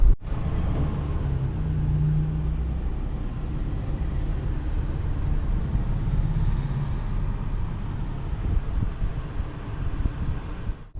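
Tata Nano car engine with a broken silencer, a steady loud low rumble and drone running continuously with no talk.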